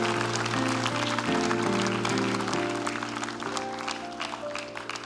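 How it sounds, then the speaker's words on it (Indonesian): Studio audience applauding on a televised talent show stage, clapping under sustained musical tones and gradually fading over several seconds. "Saya ingin penonton memberikan tepuk tangan untuk dia."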